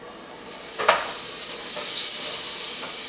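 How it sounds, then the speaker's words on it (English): Olive oil and a tablespoon of butter heating in a pot on the stove for popcorn, a continuous soft hiss and sizzle with one brief louder crackle early on, steady and close, no voices. "As you can hear, the butter is starting to melt"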